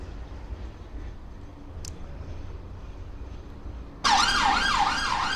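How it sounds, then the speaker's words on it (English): A wailing emergency siren starts abruptly on a street in Blackpool, cutting in loud and close over steady traffic rumble and sweeping up and down in repeated cycles. No one speaks. "Sirens."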